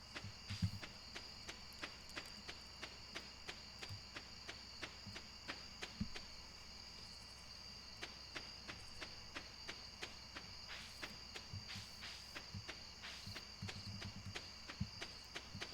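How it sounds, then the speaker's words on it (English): Footsteps in the farming video game Stardew Valley sound as a steady run of soft, evenly spaced taps, layered over a constant chirping insect ambience. "this footstep noise is quite relaxing"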